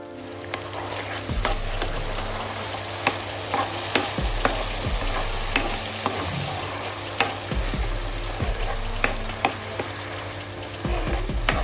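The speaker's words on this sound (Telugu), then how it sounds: "ఆయిల్ వేడెక్కిన తర్వాత గ్రైండ్ చేసుకున్న ఆనియన్ పేస్ట్ యాడ్ చేసుకోవాలి." Ground onion paste fries in hot oil for a village-style country chicken curry, sizzling steadily and close up while a spoon stirs and scrapes the pan with regular sharp knocks.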